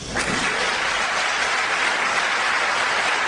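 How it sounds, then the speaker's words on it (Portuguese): Congregation applauding at a Portuguese-language church service, a loud, sustained wash of clapping that holds steady for the whole stretch with no voices rising above it. "Aplauda Jesus"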